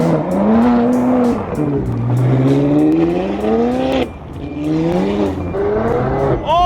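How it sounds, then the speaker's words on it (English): Liberty Walk Ferrari 458 sliding sideways in a drift, its engine howling loud and close with rising and falling revs while the tires squeal continuously underneath. "Drifting a Liberty Walk 458 ramp as you do."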